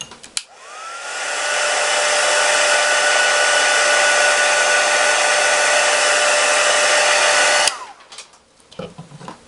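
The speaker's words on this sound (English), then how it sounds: "Next what I'm going to do is I'm going to do my heat set that quick." A heat tool for heat-setting on a scrapbooking printer's tray blows a loud, steady hot-air roar for about seven seconds, then shuts off, followed by faint handling sounds.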